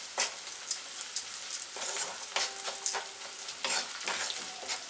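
Sliced onions frying in a pan with a little turmeric, giving a soft steady sizzle broken by repeated scraping stirs of a spoon, close and fairly quiet with no talking.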